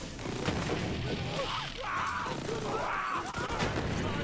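Rapid SMG gunfire in Borderlands 3 rips through enemies, a dense continuous rattle of shots and impacts with bursts and crunches layered throughout, loud and steady for the whole stretch.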